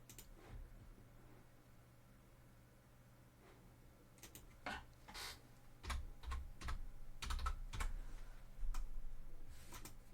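Keystrokes clatter on a computer keyboard in scattered bursts, sparse at first and then quicker clusters of clicks later on, close up over a steady low hum with no talk.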